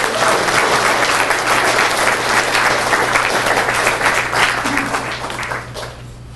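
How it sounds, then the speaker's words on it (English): Loud, sustained applause from an audience at a school DARE graduation for the essay winners, dense clapping throughout that tapers off slightly at the end. "And I got some prizes for our essay winners, so let's give them one more big round of applause."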